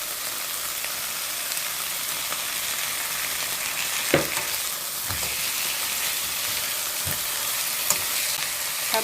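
Sirloin beef sizzles and fries in olive oil, a steady close crackle throughout with a few louder stirring knocks and pops, no talk.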